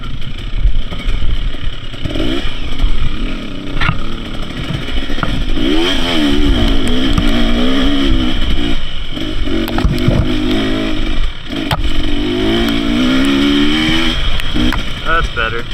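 A dirt motorcycle labours along a slick, muddy jungle climb in Costa Rica, its engine loud and close with rising and falling revs, while riders talk over the noise.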